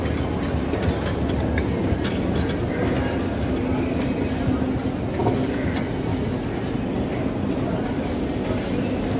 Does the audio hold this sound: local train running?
yes